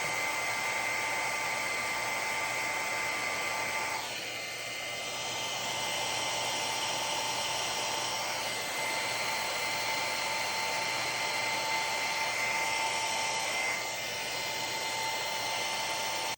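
Handheld heat tool blowing hot air to soften and reshape a paper craft embellishment, a steady, loud, close whooshing drone with a faint whine that runs unbroken throughout, with no talking.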